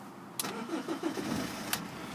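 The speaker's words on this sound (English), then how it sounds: "No problem starting the car at all" A blue BMW 320d SE diesel with a manual gearbox starts on the first try and settles straight into a steady, moderately loud idle, with two brief sharp clicks over the running engine.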